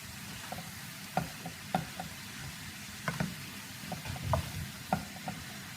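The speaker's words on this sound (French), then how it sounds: "Et donc, bien remuer." Leeks being stirred in a pan over high heat for a leek fondue, a soft sizzle beneath scattered clicks and knocks of a spoon against the pan, unhurried and fairly close, no talk.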